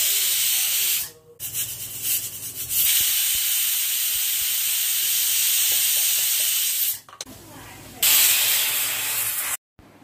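A pressure cooker with ragi sankati releases its steam in a loud, sharp continuous hiss, broken by a few brief pauses and cutting off abruptly near the end.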